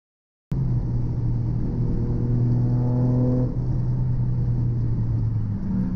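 A Toyota GR Yaris accelerates hard down the main start-finish straight at Donington Park during a track day, its engine droning loud and steady, then briefly dipping at a gear change before pulling on.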